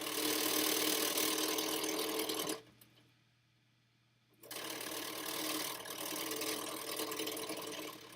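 A sewing machine stitching a quilted table runner runs loud and steady with a rough, rattling drone, stops for about two seconds, then starts up again and runs on.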